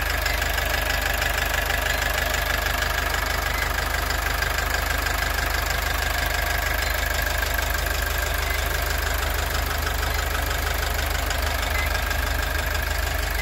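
A Cummins 2.8 diesel engine in a Foton van runs steadily at idle after repair, a continuous close rumble with a faint knocking rhythm, no voices.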